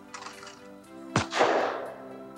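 A single loud shotgun blast fired at a clay target on an outdoor shooting range, sharp crack followed by a brief decaying boom, with low background rumble and no talk.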